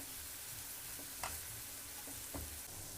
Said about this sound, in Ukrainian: Цибулю обсмажуємо на олії.